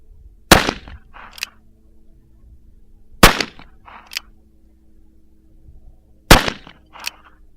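An 1851 Navy revolver fires Richmond 36 conical bullets at clay birds: three loud, sharp cracks about three seconds apart, each followed by a short echo and a faint secondary snap, alone over quiet outdoor air.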